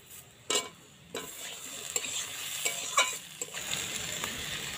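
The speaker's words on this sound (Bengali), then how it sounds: "এখন টমেটো কুচিটা দেব।" Chopped tomato is added to potatoes and onion frying in a pan for a mushroom curry. A soft sizzle runs beneath close, repeated spatula stirs and scrapes.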